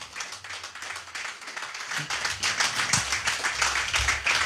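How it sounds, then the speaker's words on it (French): A church congregation claps and cheers in acclamation during worship, a dense run of hand claps that builds louder midway, with scattered voices and low rumble beneath. "Est-ce que je peux avoir des acclamations dignes?"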